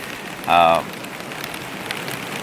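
Rain pattering steadily on a tarp at a cold backpacking camp on the Eagle Rock Loop, a continuous close hiss with a brief voice-like tonal sound partway through.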